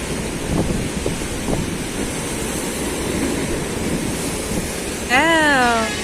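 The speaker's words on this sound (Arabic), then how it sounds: "لا هو فعلا ممكن من الموج عشان وصلت لحد فوق وطرطشت عليا" High sea waves crash along the Alexandria shore in wintry weather, a steady roaring surf wash with heavy wind buffeting the microphone and a brief voice near the end.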